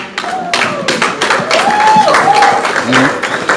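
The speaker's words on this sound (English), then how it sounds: "A round of applause for our Nollywood sensations." Audience clapping for Nollywood actors at a film festival event, with distinct individual claps and thumps close by, a sliding tonal whine running through the middle, and some voices mixed in.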